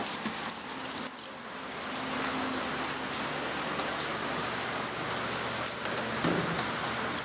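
Steady rain falls on a rainy afternoon, a dense continuous patter of drops on surfaces, close and fairly loud, with a few brief thumps and knocks breaking through now and then.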